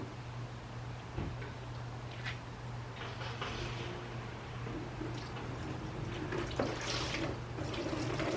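Water drains out of a vintage motorcycle fuel tank as a steady, close splashing trickle, with a faint constant hum and occasional small ticks underneath.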